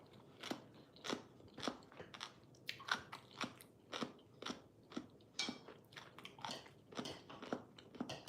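Someone eats som tam, a Thai papaya salad, up close: quiet, rhythmic bites and crunchy chewing about twice a second, with no talking.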